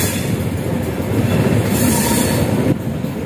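Kerala Express passenger train rounding a curved stretch of track, heard from inside a disabled-access coach: a loud, steady rumble of wheels and carriage with a faint squeal, continuous throughout with no talking.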